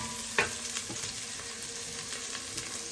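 Onion and garlic sautéing in a pan, a steady fine sizzle with a few light stirring clicks, moderately quiet and continuous with no talking.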